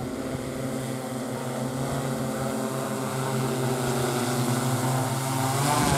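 A drone's propellers whir steadily as it comes in to land, a continuous tonal buzz that grows slightly louder toward the end.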